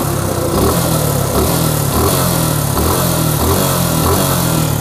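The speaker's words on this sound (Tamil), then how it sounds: "ஸோ என்ஜின் சவுண்ட் கைஸ் இது." Suzuki Gixxer SF 155 BS6 motorcycle idling in neutral, a steady, close engine rumble with an even pulsing beat throughout. No speech.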